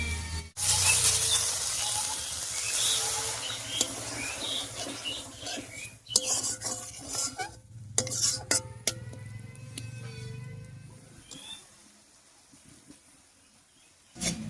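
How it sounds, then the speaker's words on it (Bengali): Water poured into a pan of banana tree stem curry brings a loud hiss and bubbling sizzle that gradually dies down, with utensils clinking and scraping against the pan. "এবার সামান্য কিছু জল দিয়ে দিচ্ছি"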